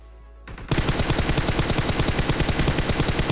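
Automatic gunfire in the video game PUBG: after a brief quiet moment, a rapid, sustained stream of evenly spaced shots rattles loudly and close for about three seconds.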